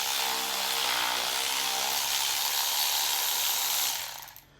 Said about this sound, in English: let's start zipping these bolts out